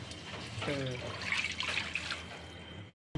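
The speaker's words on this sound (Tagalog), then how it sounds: "Atong dugangan og tubig kay gusto mi og naay sabaw" Water trickles and splashes into a pan of shrimp and sotanghon glass noodles during cooking, a steady pour at close range that stops abruptly near the end, with a brief voice early on.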